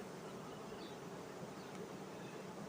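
Steady, dense buzzing of many honey bees close by around a hive, a continuous droning hum with no voices.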